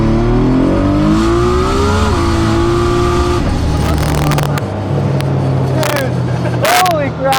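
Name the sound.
1,200 HP Nissan 300ZX street car accelerating hard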